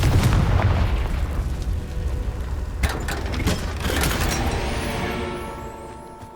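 Confringo fire spell explosions in the video game Hogwarts Legacy, a booming blast at the start followed by crackling bursts and a second loud impact, fading into a rumbling decay, close and heavy.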